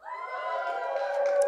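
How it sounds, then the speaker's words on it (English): An audience at a Youth 2000 youth conference cheering, a brief swell of crowd whoops and shouts rising steadily over about a second and a half. "Can I hear a cheer for everybody who went to that this year?"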